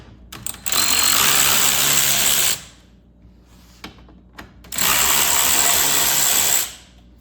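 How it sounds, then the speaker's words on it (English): A power drill with a T20 Torx bit backs out intake bolts on a Mk8 Volkswagen GTI, two loud close whirring bursts of about two seconds each, separated by a quiet pause with small clicks. "I have a T20 Torx bit, and I'm going to be taking these 2 bolts off on the front to get the little intake piece off here"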